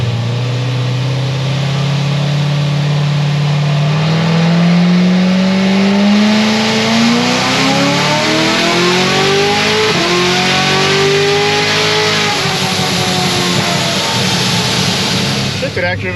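A 1250 hp Corvette C7 Z06 on stock tires accelerates hard, engine pitch sweeping up steadily, then a 4-5 shift drops the tone before it climbs again; loud, close and continuous throughout.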